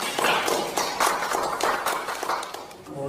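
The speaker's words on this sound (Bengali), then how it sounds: "হাততালি হয়ে যাক।" Audience applause at the first Howrah cultural festival, a dense wash of many hands clapping at moderate distance, steady for about three seconds and thinning out at the end.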